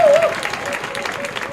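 A church congregation breaks into brief applause and acclamation, dense clapping mixed with voices and a sung or called note, loud at first then settling.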